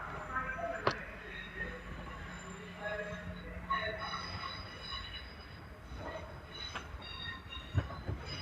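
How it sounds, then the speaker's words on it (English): A London Northwestern Railway train, a Class 350 unit on the Birmingham New Street to Liverpool Lime Street service, arriving at Crewe station, with a low rumbling roll, brake squeal, wheel clicks and scattered station sounds nearby. "I'll bring your attention over this way to find incoming the 11:29 London North Western Railway service from Birmingham New Street to Liverpool Lime Street."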